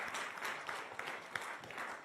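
A conference audience claps together, a soft, even round of applause from a moderately distant crowd with a few sharper claps standing out.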